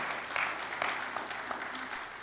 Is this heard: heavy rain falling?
no